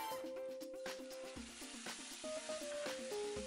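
Sofrito of onion, herbs and grated tomato stirred in a pan, with a steady soft sizzle and scraping of the spoon, accompanied by background music with a melodic line throughout.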